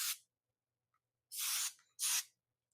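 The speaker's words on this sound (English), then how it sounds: "I love this hairspray because it has shine and it has hold, but it's not super sticky." Hairspray hisses from a can onto styled hair in three short, close bursts: a brief puff, then two longer sprays, with silence between them.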